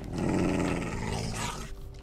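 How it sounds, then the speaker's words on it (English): A dog or wolf in Minecraft lets out a short, close, rumbling growl that rises and then trails off within about two seconds. "Is there a dog? Does a dog follow me too?"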